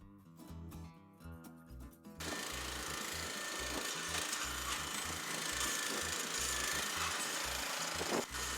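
One-man power auger drilling post holes for a deck, a loud steady engine drone with grinding and churning as the bit bores into soil, following a brief sputtering start.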